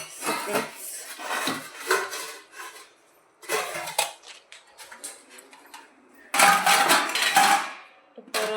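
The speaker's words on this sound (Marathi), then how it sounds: "आपले भांडे लावून किचनवरचे रात्री घासून ठेवलेले" Metal kitchen utensils, washed the night before, clatter and clank as they are set into a kitchen rack basket, in several close, bright bursts of rattling with short pauses between.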